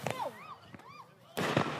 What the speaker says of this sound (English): There's a firework right there